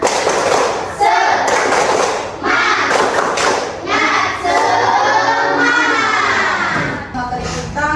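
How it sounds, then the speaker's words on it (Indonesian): A classroom of students performs a rhythmic spirit clap, loud thumping claps in patterned groups mixed with children chanting and shouting along. "kita kasih dulu tepuk semangat"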